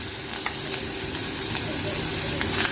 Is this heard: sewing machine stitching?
no